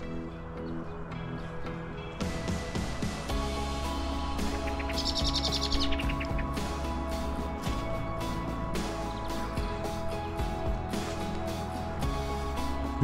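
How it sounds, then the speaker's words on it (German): Birds chirp and call from all directions outdoors near a pond with ducks on a cool, sunny day, steady twittering over a constant background hum and tones, no talking. "Die Vögel hört man von allen Richtungen."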